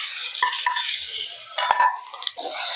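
Fried potatoes and eggplant being tipped into a pan of curry gravy, with metal utensil scrapes and clinks against the pan and soft wet sizzling bursts, close and fairly loud.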